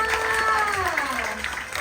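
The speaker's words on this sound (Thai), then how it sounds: "ขอเสียงปรบมือให้กับเจิญด้วยค่ะ" An audience at a school talent show applauds and cheers, a steady wash of clapping under a speaking voice that carries over it throughout.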